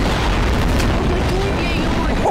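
Dense, continuous booming of many bombs exploding in Garry's Mod, a loud roaring wall of blasts with overlapping bursts and a few sharper pops throughout.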